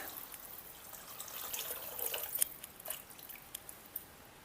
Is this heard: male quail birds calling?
no